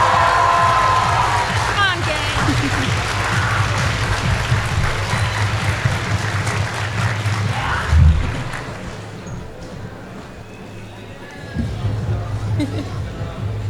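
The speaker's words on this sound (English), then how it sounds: "Can we give a round of applause for our awesome host?" Audience at a cosplay contest at the Tampa Comic Convention applauds and cheers loudly for the host, a steady crowd roar with a voice calling out, the ovation thinning midway before a brief surge near the end.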